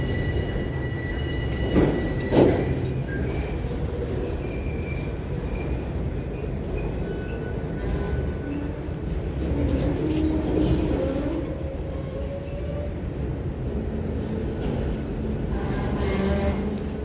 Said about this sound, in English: This is a very rare train to go on this curve.